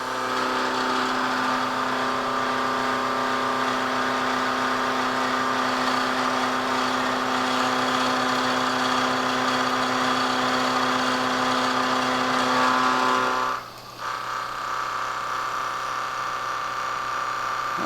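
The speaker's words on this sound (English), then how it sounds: "this Coralloy cutter is such a free cutting cutter, it doesn't put a lot of pressure on it." A milling machine with a Coralloy cutter steadily cutting a metal block, a continuous tonal machining whine and hum that drops abruptly near the end, then carries on more quietly.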